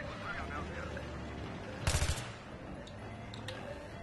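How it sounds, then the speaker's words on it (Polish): A short, loud burst of about four rapid rifle shots rings out midway in Battlefield 3 combat, set against steady background battle noise with a voice talking faintly. "Strzelam."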